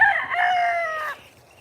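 A chicken lets out one loud, drawn-out call lasting about a second, close by and heard alone.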